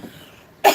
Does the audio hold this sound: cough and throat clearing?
yes